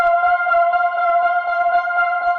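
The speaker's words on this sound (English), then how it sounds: "this drone sound, which sounds like this, just plays the root note of the track" A sustained synth drone holds one steady low note with layered harmonics, loud and unchanging, with no voices.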